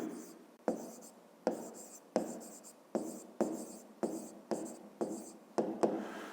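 Pen or chalk writing out a math equation for a fifth-grade angle problem, a regular series of about nine short scratching strokes, each starting sharply and trailing off, quiet and close.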